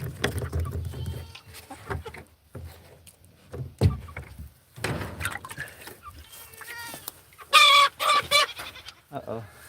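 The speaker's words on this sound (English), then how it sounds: "we gotta go finish feeding the rest of this feed to the other chickens" Chickens cluck at feeding time, scattered clucks and squawks coming in bursts between quieter gaps, with a loud squabbling flurry near the end and some background voice and rustling.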